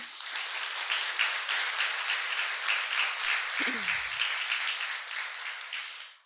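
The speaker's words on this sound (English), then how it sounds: "Let's give them a round of applause." Audience applause at the Kentucky Teacher of the Year award ceremony: a full, dense burst of clapping from a large crowd, steady and fairly loud, with a brief low thump midway, tapering and cutting off at the end.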